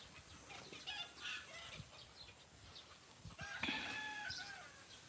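Chickens on a rural Philippine homestead on a hot day, with a rooster crowing and hens clucking at mid distance over steady outdoor ambience; no one speaks.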